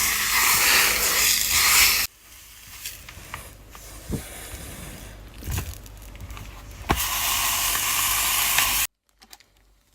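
A steak pressed under a clothes iron sizzles in a bright hissing burst, fades to quiet scrapes and clicks, then hisses loudly again before cutting off.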